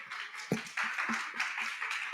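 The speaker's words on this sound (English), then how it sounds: "Can we give them a big round of applause?" Scattered clapping at a small gathering, a modest round of applause with a few sharp claps standing out over a steady patter, moderately close.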